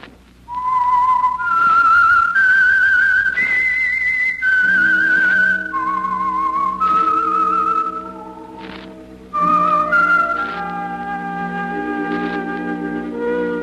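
Radio theme tune for The Whistler: a lone whistled melody of clear sustained notes, rising then falling, later joined by low sustained orchestral chords beneath it, with no talk.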